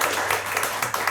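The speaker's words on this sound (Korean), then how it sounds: "우리 권영국 변호사님 우리 박수로 맞아주시면 고맙겠습니다" An audience at an indoor public forum on the Osong underpass disaster applauds to welcome lawyer Kwon Young-guk, a steady dense patter of many hands clapping together, near and lively, with no talking.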